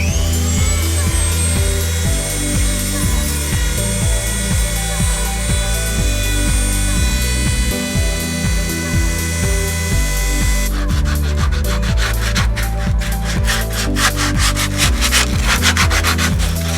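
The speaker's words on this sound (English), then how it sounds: "I'm gonna go ahead and grab some sandpaper and a deburr tool and clean this up." Sandpaper rubbing and deburring the cut edge of a metal fuel tank sump cutout on a Cummins truck, steady rhythmic scraping strokes, close and loud, turning faster and harsher near the end.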